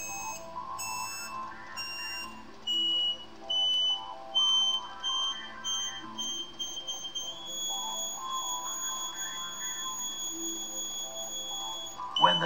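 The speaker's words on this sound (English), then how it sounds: "When the tone drops again, you come back until you hear a continuous tone." A series of electronic satellite dish alignment beeps rises and falls in pitch and spacing, settling into a steadier continuous tone toward the end.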